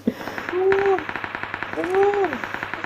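Rapid gunfire in PUBG Mobile rattles in quick regular bursts throughout, with tonal game effects sweeping over it and no clear speech.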